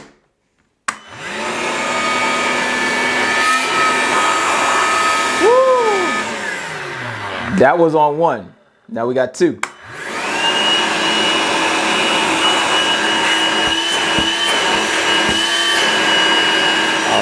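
A Ryobi ONE+ 18V LINK cordless 3-gallon wet/dry vacuum whines loudly and steadily, briefly dropping in pitch and sputtering midway as it cuts out and restarts on a second speed, then roaring on; a voice speaks briefly.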